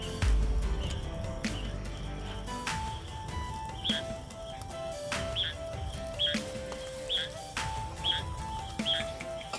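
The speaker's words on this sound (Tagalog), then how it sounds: "Mga huni ng ibon" Birds chirp around a mountain campsite in Baguio, repeating short, bright calls at a distance. The calls sit over a soft, low background rumble and some faint patter, with no talking.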